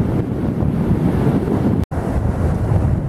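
Ocean waves roll onto a sandy beach where shark teeth are searched for, a loud, continuous broadband surf roar heavily mixed with wind buffeting the microphone, with a brief dropout partway through.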